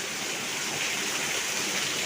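Heavy afternoon rain pours down with water rushing and flowing nearby, a dense, loud, continuous hiss without any talk.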